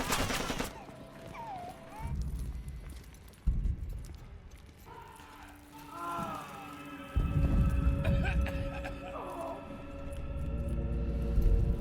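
Horror ambience from the Vietnam War video game Shellshock 2: dull, throbbing heartbeat thumps pulse at intervals under eerie drones and distant wailing, with sudden low booms.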